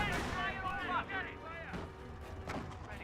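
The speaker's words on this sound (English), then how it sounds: "Great to have spot for a mortar barrage" Mortar barrage in the World War II strategy game Company of Heroes, with several heavy booming impacts spread across a few seconds under busy battle noise and a voice talking over it.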